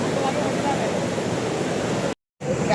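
Steady, dense roar of rushing water at Kalu waterfall in Maharashtra during rain, loud and continuous, cut by a brief dropout near the end.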